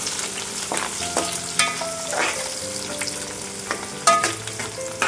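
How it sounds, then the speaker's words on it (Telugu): Sliced onions hit hot oil already seasoned with whole biryani spices for an eggplant biryani, giving a steady close sizzle broken by the scrape and clatter of a stirring spoon; no one talks. "ఉల్లిపాయలు వేస్తున్నామండి"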